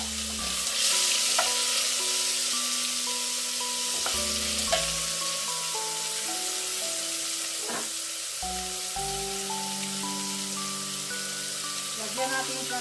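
Pork cubes frying in a pan for pork curry give a steady, close sizzle across the whole stretch, with a few brief stirring knocks and some faint talk in the background.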